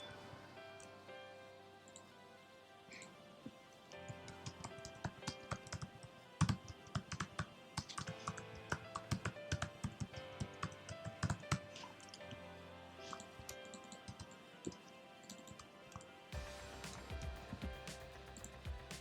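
Steady typing on a computer keyboard, with quick irregular clicks of keys continuing close up for the whole stretch and a brief louder burst near the end.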